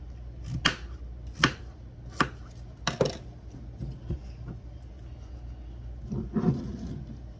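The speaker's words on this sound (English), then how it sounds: "Chop this up. This is so thick. Quarter it up, cube it." A knife chops and cubes a thick cushaw squash on a board, giving a handful of crisp, separate thunks at uneven intervals. Faint kitchen background noise sits underneath, and no one speaks.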